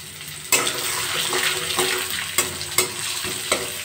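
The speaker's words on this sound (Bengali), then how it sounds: "চালটা 1 মিনিট ভালো করে একটু নাড়াচাড়া করে নেব।" Gobindobhog rice, washed and drained, stirred and fried in a pan with spices: a steady close sizzle broken by several sharp scraping knocks of a spoon against the pan, no voices.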